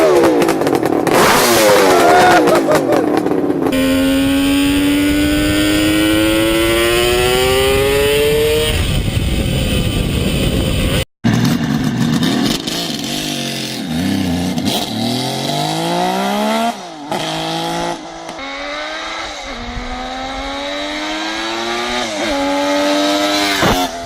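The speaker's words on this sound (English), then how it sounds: "Old school, two-stroke, carbureted three-cylinder front from Kawasaki." Carbureted two-stroke three-cylinder Kawasaki H2 750 motorcycle revving hard, with ringing, buzzy blips that rise and fall in pitch, a brief cut-out midway, then more sharp throttle stabs, loud and close with no talking.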